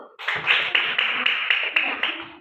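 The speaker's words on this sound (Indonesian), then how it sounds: "Tepuk tangan buat kelompok 2" A classroom group claps together in a steady, evenly spaced rhythm, a short burst of about nine to ten synchronized claps at moderate volume.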